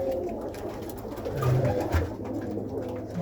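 Homing pigeons cooing in a loft, low soft coos rising briefly amid a constant murmur of birds, close and unaccompanied by speech.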